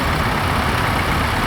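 A Massey Ferguson 1150 tractor at a steam rally parade in Sussex, its engine running in a steady, continuous low rumble with broadband noise, close and loud throughout.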